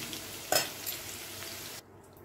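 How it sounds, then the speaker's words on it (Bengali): Potato and pointed gourd frying in oil in a pan, a steady moderate sizzle with a brief sharp clink of a utensil early on, then the hiss drops away abruptly near the end; no one speaks. "দেখুন বন্ধুরা আলু পটল দুটোই খুব ভালো করে ভাজা হয়ে গেছে"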